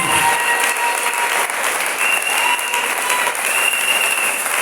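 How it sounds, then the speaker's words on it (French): A church congregation at a French-language service claps loudly for the Lord, a thick continuous roar of many hands filling the room without a break. "Applaudissons très fort le Seigneur Jésus."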